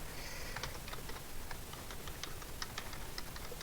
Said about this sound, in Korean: 헬로 월드 한번 제가 타이핑 해보겠습니다